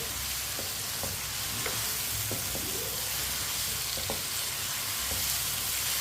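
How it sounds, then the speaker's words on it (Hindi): Potatoes and tinda (round gourd) pieces frying in a pan, a loud continuous hissing sizzle with occasional soft scrapes and clinks of a stirring spoon. "आलू डाल के भी 2 मिनट के लिए पका लेंगे।"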